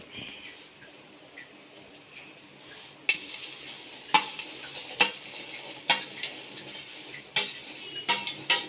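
Sweet puffed rice (pori) poured into a pan over a low flame and stirred, soft rustling followed by a run of sharp clinks and scrapes from a utensil against the pan at a steady, irregular pace.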